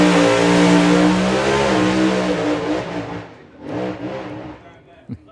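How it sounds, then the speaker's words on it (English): A Pro-Mod Corvette drag car from the UK roars loud and close at a drag race, its engine holding a heavy revving drone before fading off, then a second softer surge and a brief knock. "5-second capable Pro-Mod legal Corvette from the UK"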